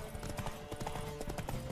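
Horse hooves pounding in a steady galloping clip-clop rhythm in The Witcher 3 video game, loud and close over game ambience and a low background hum.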